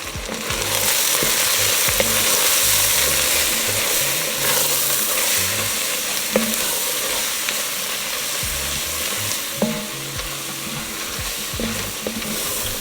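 Flour being stirred and scraped off the bottom of a sizzling pot while making French onion beef short rib soup, with steady frying sizzle and irregular scraping strokes close up, no talking.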